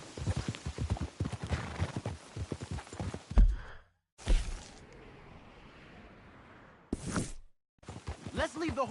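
Horse hooves clip-clopping on the ground in the Western video game Red Dead Redemption 2, a run of close, distinct steps that stop abruptly, followed by a snort and short bursts of sound separated by gaps.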